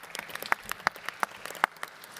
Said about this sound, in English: a special round of applause also for them